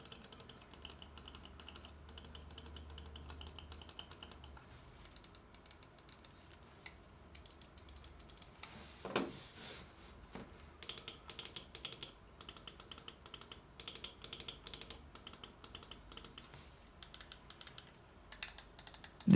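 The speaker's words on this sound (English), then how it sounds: "Here is a quick sound test of the buttons." A Pwnage gaming mouse's buttons click in quick, crisp bursts of close, faint taps, pausing briefly, with a short scroll-wheel ratchet in between.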